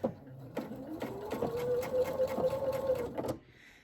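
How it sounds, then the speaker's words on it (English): A sewing machine stitches the lining seam of a fabric travel pouch, a close, steady whirring hum with a rapid needle clatter, slowing and stopping near the end. "I am going to make sure to back stitch to secure my stitches as I start sewing around."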